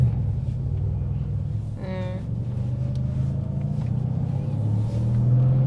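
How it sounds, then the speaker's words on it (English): A car engine gives a low, steady rumble, heard from inside the moving vehicle. The drone stays even throughout, with a brief voice sound near the start. "I feel like you can hear the sound of the car"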